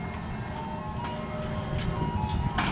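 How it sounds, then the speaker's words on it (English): An ice cream truck's chiming tune plays "Turkey in the Straw" over a heavy low engine rumble, the melody thin and somewhat distant with a few brief sharp noises. "Turkey in a straw."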